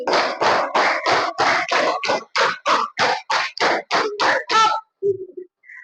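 A classroom group claps a five-count pattern three times over, about fifteen quick, loud, evenly spaced claps in a steady rhythm that then stops.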